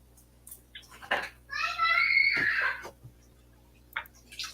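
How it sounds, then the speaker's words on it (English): Children are loud downstairs, with a shrill, drawn-out child's shriek heard faintly through the house, preceded and followed by brief voices and thumps. "Kids are being loud downstairs."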